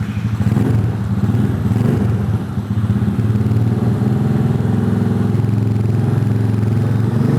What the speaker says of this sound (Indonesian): Coba sekarang kita nyalain ya suaranya